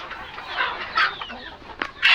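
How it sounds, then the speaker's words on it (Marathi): Free-range desi village hens on a small organic poultry farm cluck in short bursts close by, with a few sharper calls standing out over a low farmyard background. "तर तुम्ही बघू शकता सर्व मित्रांनो गावठी कोंबड्या आहेत"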